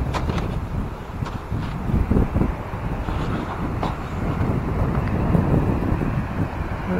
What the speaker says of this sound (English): That'd be more, a little bit more windy today and more waves